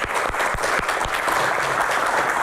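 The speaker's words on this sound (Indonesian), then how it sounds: "Tepuk tangan." Audience applause for panelists at an Indonesian medical association Q&A forum, a steady dense wash of clapping that runs through the whole moment with a few sharper individual claps near the start.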